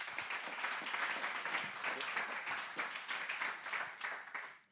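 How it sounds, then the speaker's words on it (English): Warm audience applause at a software conference during lightning talks, many hands clapping in a dense steady wash heard faintly and at a distance, tapering off at the end. "give them a warm applause"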